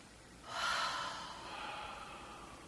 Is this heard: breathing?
yes